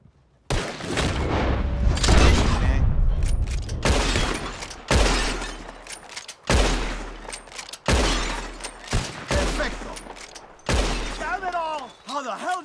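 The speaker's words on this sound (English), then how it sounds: "Whoever shoots more of these bottles" Gunshots shatter glass bottles in the Red Dead Redemption 2 western game, a rapid series of loud sharp cracks and breaking glass, then several separate booming shots with gaps of near silence between them.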